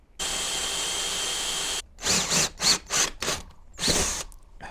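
A power drill with a 6.5 mm bit whines steadily for a couple of seconds, then bites through a vehicle-mounted locker in several short, loud bursts with gaps between.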